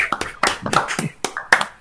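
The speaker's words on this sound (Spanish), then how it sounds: "Esto se merece un aplauso, gente" A few online class participants clapping over their microphones during a bioinformatics workshop session, sharp, uneven close-up claps in separate irregular bursts, thin and unsynchronized rather than a full crowd.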